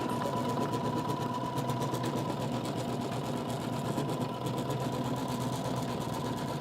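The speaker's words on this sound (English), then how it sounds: "now it's going to go around one more time and stitch" An embroidery sewing machine stitches around fabric a second time, giving a steady, continuous mechanical whir with a fast needle rhythm and a constant hum throughout, close and moderately loud.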